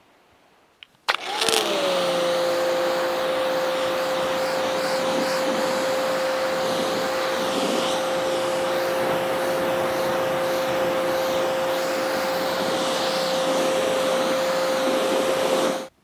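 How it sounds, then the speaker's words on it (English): A WHOLESUN 3000 PSI electric pressure washer switches on and runs steadily, rinsing with a 25 degree nozzle; a loud, constant high whine with a hissing spray holds for about fifteen seconds, then stops abruptly. "We'll go ahead and get that rinsed off with the 25 degree nozzle."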